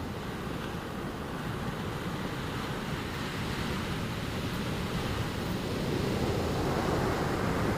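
Sea waves at a shipwreck site on a calm day, a dense continuous roar of surf mixed with wind buffeting the microphone, steady and loud throughout with a slight swell toward the end.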